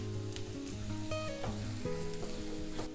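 Green chillies sizzle steadily in hot oil in a Chinese wok while egg bhurji is being made, a close, continuous frying hiss with faint stirring scrapes and no talk.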